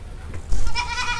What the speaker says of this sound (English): I'm watching this goat